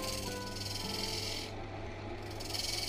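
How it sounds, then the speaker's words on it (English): An oak bowl spins on a wood lathe as a tool nibbles at its tenon, a steady close rasping and rubbing over a constant motor hum, briefly easing off midway. "I'm just nibbling away at the tenon here, just trying to make sure that the bowl doesn't move"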